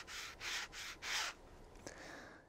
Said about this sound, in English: you take your fingernails and you just rub it along the pad and you'll hear, you should hear some feedback and in the texture